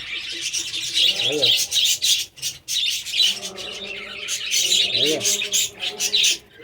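Budgerigars chirp and squawk in a busy colony, bright twittering calls overlapping continuously at close range, with a few wing flutters and a voice speaking briefly underneath.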